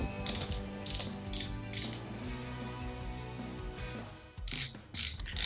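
Ratcheting lock dial on a Li-Ning WOW 9 basketball shoe being turned, giving several bursts of fast, crisp clicking separated by short pauses, close and clear with no talking.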